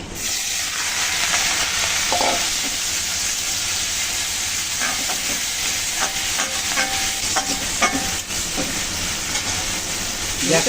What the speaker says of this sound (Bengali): চিংড়িগুলো ভেজে নেব